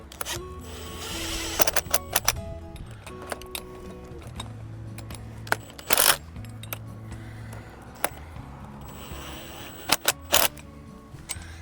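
Screws are driven and fastened into a flag bracket: short bursts of a driver motor alternate with sharp metallic clicks and ticks, close and moderately loud, with quiet pauses between.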